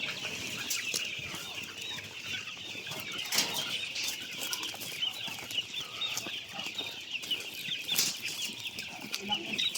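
Chickens cluck and flutter restlessly at moderate distance, with occasional wing flaps and scattered calls against a steady outdoor background.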